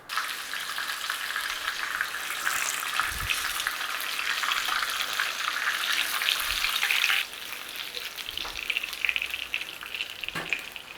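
Pork schnitzel fries in a pan with a bright, loud, continuous sizzle that drops a little partway through, with a few low thumps and clinks of handling and no talking.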